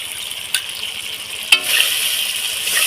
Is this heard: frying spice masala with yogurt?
yes